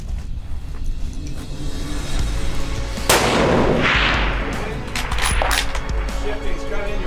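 A single loud rifle shot from a Ruger Hawkeye chambered in 6.5 PRC, fired outdoors at long-range targets, strikes sharply against a noisy outdoor background and trails off in a long rolling report.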